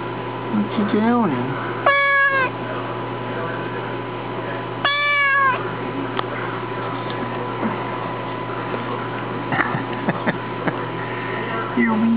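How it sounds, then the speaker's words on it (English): A cat meows twice with loud, drawn-out rising-falling calls against a steady background hum, with a person speaking at moments around it. "Hey, cat. Meow."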